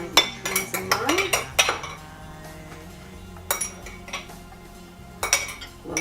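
A spoon clinks and scrapes against a bowl while mushrooms are served for pho, with bright metallic taps in clustered bursts separated by quieter stretches, close up.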